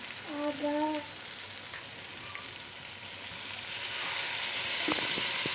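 Tomato paste fries in oil in a pan for lagman sauce, a continuous close sizzle that grows louder toward the end, with brief tonal clinks early and sharp utensil taps near the close.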